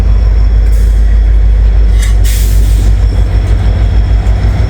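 CSX freight train with locomotive and railroad cars passing close by, a loud continuous low rumble of rolling cars with faint high squeal and clatter over the top.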